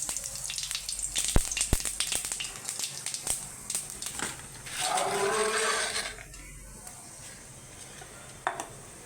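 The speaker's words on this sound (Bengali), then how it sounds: "এবার একটা শুকনো লঙ্কা জিরে ফোড়ন দিয়ে দিলাম।" Dried red chili and cumin seeds go into hot oil for tempering, giving clicks and crackles, then a swelling sizzle that fades back down, with a faint tap near the end.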